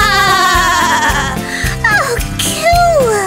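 A black sheep bleats in a sung children's nursery rhyme, with wavering, drawn-out bleats over a bright musical backing.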